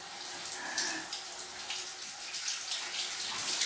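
Water runs from a tap into a basin, a steady hissing splash with faint dripping and small gurgles, close and moderately quiet, with no voices.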